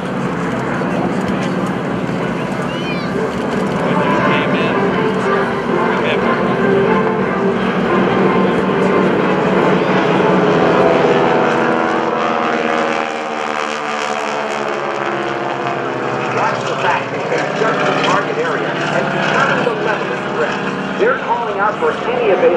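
Propeller airplanes drone overhead at an Air National Guard open house and airshow in Rhode Island, a loud sustained engine roar that swells and shifts in pitch as they pass, with an announcer talking throughout.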